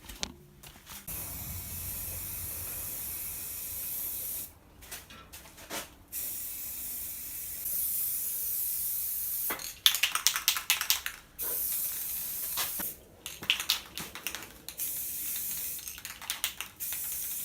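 Spray paint from an aerosol can hissing onto the outside of a homemade propane fire pit, in repeated bursts of a few seconds each separated by short pauses.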